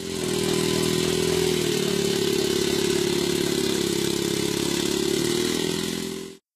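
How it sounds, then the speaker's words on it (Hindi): A 70cc three-wheeled motorcycle powered by compressed air from two cylinders runs in a steady, loud, close clattering drone for over six seconds, then cuts off abruptly. "पेट्रोल और गैस के बगैर हवा के प्रेशर पर चलने वाली मोटरसाइकिल"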